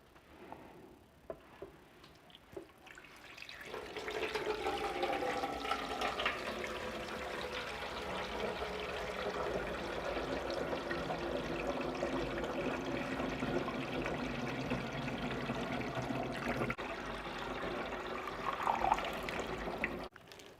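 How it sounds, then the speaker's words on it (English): Water pours steadily into an 8-litre cool mist humidifier tank for a long stretch, a continuous splashing rush with a rising tone as it fills, then stops. "now we're going to add the water."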